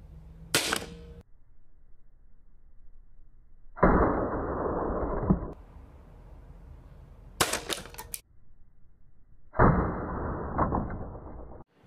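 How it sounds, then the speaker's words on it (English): Two Gamo Air Star and Crosman Power Shot Red air rifles fired into ballistic gel: two sharp, loud cracks several seconds apart, separated by broad hissing bursts in an otherwise quiet space. "We're going to shoot it with the two winners, the Gamo Air Star and the Crossman Power Shot Red."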